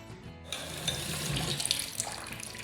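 Tap water runs steadily into a kitchen sink during dish cleanup after making red sauce, starting abruptly with a broad rushing hiss and a few clinks, close and alone.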